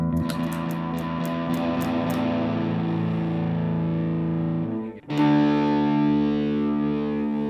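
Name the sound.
guitar distortion pedal effect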